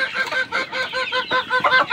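Chickens on a poultry farm cluck and squawk nearby in a busy, overlapping chorus of short, nasal calls that repeat rapidly, with no talking.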